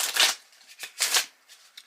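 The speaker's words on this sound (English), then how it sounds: "just give these a shuffle." A deck of playing cards is shuffled up close for a game of spades, with several crisp riffling bursts separated by short pauses and no talking.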